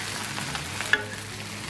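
Bacon and pork belly sizzle steadily in a hot pan for fried rice, with a few soft scrapes from stirring and one sharper clink near the middle.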